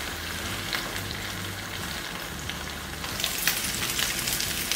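Sarıkanat (bluefish) frying in butter in a pan, a steady close sizzle and crackle that grows busier and louder toward the end, with no talk.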